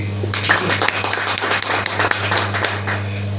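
A short burst of crowd clapping at a celebration of Dr. B. R. Ambedkar's 134th birth anniversary, dense and steady, over a constant low electrical hum.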